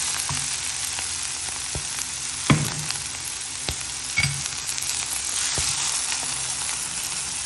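Tomatoes sautéing in a pan for bitter gourd thokku, a constant loud sizzle and crackle of frying with a few scraping stir strokes and clinks of a spoon against the pan.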